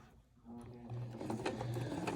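A serviced sewing machine in top condition runs steadily while stitching bias tape fabric ruffles, its motor hum growing louder partway through with a continuous, even whir close to the listener.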